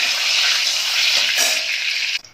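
A bay leaf dropped into hot oil or ghee while making carrot halwa sets off a loud, steady sizzle that holds for about two seconds, then drops away abruptly at the end.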